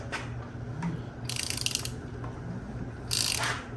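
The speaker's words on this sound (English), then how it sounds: "Gonna put a big socket on a ratchet on our crank pulley bolt." A ratchet with a large socket clicks on a crank pulley bolt while a big-block engine is turned over by hand, two bursts of rapid pawl clicking, fairly close, over a low steady background hum.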